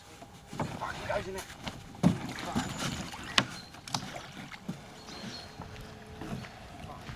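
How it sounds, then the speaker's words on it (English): A person clambers into a small rowing boat on water at a fishing swim, with uneven knocks, thumps and splashes of the hull, and voices talking softly nearby. "Kev made getting in that boat look easy"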